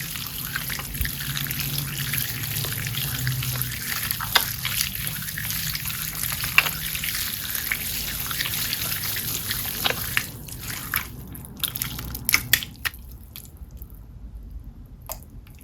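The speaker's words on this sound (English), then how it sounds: "So I just twist it around and mash it around." Slime being twisted and mashed by hand, wet squishy squelches and soft sticky pops in a steady close-up stream, with no talking.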